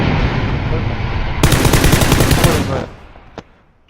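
Loud bursts of rapid gunfire rattle from a shooting game, a dense automatic volley that cuts off abruptly, followed by a single fainter shot as the noise fades.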